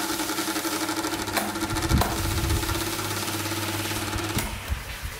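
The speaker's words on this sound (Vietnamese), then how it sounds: "Chiếc quạt này động cơ vẫn còn khá tốt nhưng mà quay thì rất là kêu." An old, rusty mini table fan with a sound motor runs noisily, giving a steady droning hum with a rattling, buzzing edge and a few sharp knocks. The noise is close and continuous, with no talking.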